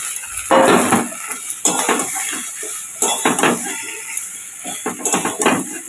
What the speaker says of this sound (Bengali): এবার পটলগুলো দিয়ে দেবো